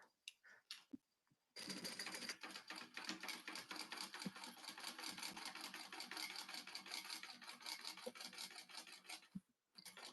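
A sewing machine stitches a seam on a crossbody bag in one sustained, close, rapid rattling run lasting several seconds, with brief handling noises before and after and no talk.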